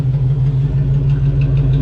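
A 1967 Chevrolet Impala convertible idles close by, its engine giving a loud, steady, low rumble throughout with no voices.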